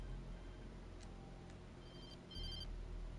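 A phone rings in the video game Alan Wake 2, a faint electronic ringtone with a few short tonal bursts over a low hum, quiet and without voices.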